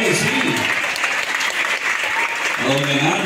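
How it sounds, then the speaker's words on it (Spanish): Loud, sustained audience applause fills a school graduation ceremony hall, continuous clapping for over three seconds with a voice speaking briefly beneath it near the start and end. "un aplauso, mil gracias"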